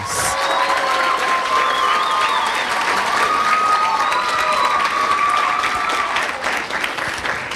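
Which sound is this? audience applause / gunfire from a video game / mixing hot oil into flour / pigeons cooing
audience applause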